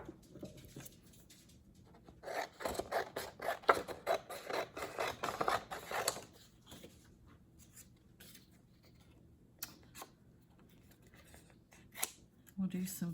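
Scissors snip through paper into strips for a junk journal, a quiet close run of crisp repeated cuts over a few seconds, followed by scattered single snips.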